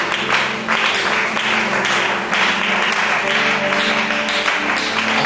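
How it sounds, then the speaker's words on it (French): A church congregation applauds and cheers loudly in sustained, dense clapping, with voices calling out over it. "Est-ce que tu peux acclamer la parole de Dieu?"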